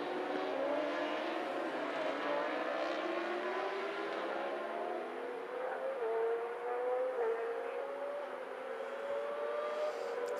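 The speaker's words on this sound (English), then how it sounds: "There he goes, spitting flames out of the back of that BMW liter engine." A BMW liter-engine racing motorcycle howls through turns on a road-racing circuit, its engine note steadily rising and falling with gear changes, heard continuously from a distance at moderate volume with no talk.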